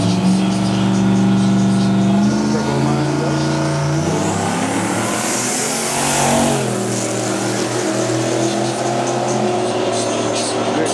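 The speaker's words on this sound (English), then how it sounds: "We got Rolo in the right lane, white Camaro" A white turbo Camaro and a charcoal Camaro drag race, with loud engines roaring and revving as the cars launch and pass close by, then a continuous rumble fading out, and a voice talks over the engines.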